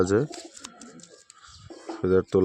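Giribaz pigeons coo softly between stretches of someone talking close by, the low throaty calls sitting under and around his voice.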